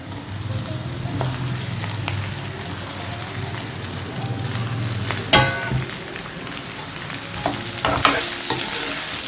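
Onions and taro root (chama dumpa) fry in a pan for a tamarind stew with a constant close sizzle and a few sharp stirring clatters around the middle, alone with no speech.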